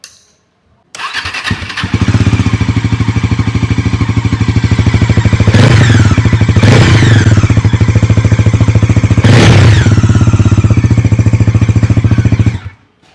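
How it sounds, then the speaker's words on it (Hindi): A Bajaj Pulsar NS400Z motorcycle with an underbelly exhaust starts up and idles loudly and close, with a steady throbbing rumble broken by three sharp throttle blips. "अब NS400Z का एग्जॉस्ट सुन लेते हैं हम"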